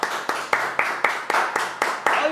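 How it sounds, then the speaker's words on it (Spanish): A studio audience on a food TV magazine programme applauds a guest with steady, rhythmic claps, fairly close and loud. "Fuerte el aplauso para el Negro Silva con nosotros."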